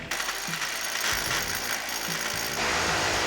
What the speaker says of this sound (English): drilling some holes in the garage. We're gonna punch through the concrete.